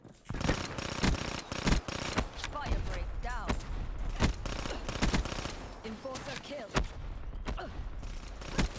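Rapid automatic gunfire bursts in a Black Ops 3 multiplayer match, loud and close, with sharp cracks and repeated rattling volleys, plus someone speaking over the shooting.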